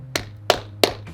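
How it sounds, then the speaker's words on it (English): A one-handed person claps a hand against their arm, making four sharp, close slaps spaced roughly a third of a second apart, each a dull fleshy smack. "My version of clapping, if you could even call it that, is like I clap against my arm"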